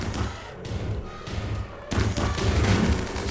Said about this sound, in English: Lots of shooting. So much shooting.